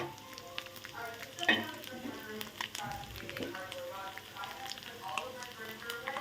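Green chillies deep frying in a little oil, a steady dense sizzle with crackling pops running throughout, with a few louder spits and some quiet background talk.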